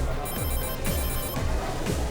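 A telephone rings with a repeating electronic ring, several loud bursts in quick succession, with voices faintly in the background.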